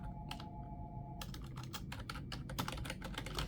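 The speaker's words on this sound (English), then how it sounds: "you just type into here, type the word, say Crohn's disease" Rapid keystrokes on a computer keyboard as a health search is typed, a close, continuous patter of clicks with a brief pause before a quicker burst.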